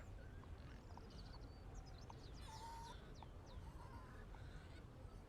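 Outside, a bird gives strange chirping, squawking calls in a loose series of short notes over faint steady background hiss, distant and quiet.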